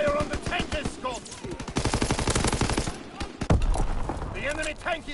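Video game gunfire aimed at a tank escort, rapid machine-gun bursts in a fast rhythmic rattle, close and loud, with voices shouting in between.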